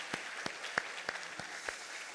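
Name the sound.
church congregation applauding the children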